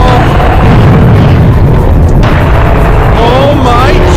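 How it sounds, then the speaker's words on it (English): Heavy cannon fire in the first-person shooter Serious Sam, a loud, dense barrage of deep booms and blasts running continuously throughout, with no speech over it. "Looks like I needed the cannon after all!"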